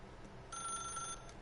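A telephone rings once in The Stanley Parable video game, a single electronic trill lasting under a second, fairly faint and heard alone with no voices.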